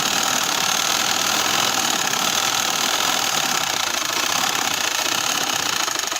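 A sewing machine runs a top-stitch along a party-wear dress seam, giving a loud, steady mechanical whir that continues without pause throughout, with no talking.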